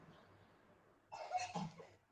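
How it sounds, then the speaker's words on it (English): A child gives a short, faint burst of pretend coughs, two or three quick rough huffs after a second of quiet room tone. "stop doing pretend coughs"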